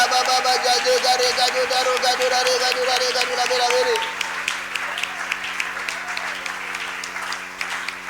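A church congregation claps loudly together for about four seconds, then the applause gives way to a voice speaking over a quiet room.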